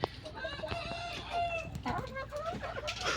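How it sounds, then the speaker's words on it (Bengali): A rooster of a large native breed crows close by while hens cluck and chatter around it, several overlapping calls through the whole stretch. "এইখানে আরেকটা মোরগ দেখেন আপনারা খুবই সুন্দর কালারের একটি মোরগ"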